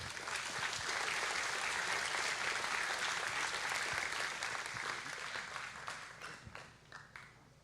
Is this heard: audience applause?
yes